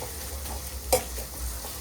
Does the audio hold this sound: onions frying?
yes